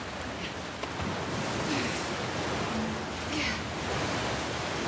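Ocean waves roll along a coast in the video game The Last of Us Part II, a steady broadband rush of surf with gentle swells in loudness, heard alone without talk.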